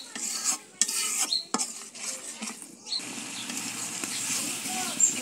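A spoon stirs coriander, turmeric and salt together in a pot on a clay stove for a dried-fish pumpkin-greens fry, giving soft scraping and clinking strokes. A voice seems to talk alongside.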